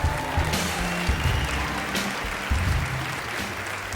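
Broad audience applause at the Canadian Screen Awards 2025, a continuous roar of many clapping hands filling a large hall, with music thumping faintly underneath.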